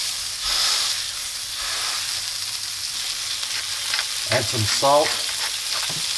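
A meat patty sizzles loudly in canola oil in a hot pan, a steady dense frying hiss throughout, while a nearby voice speaks briefly near the end.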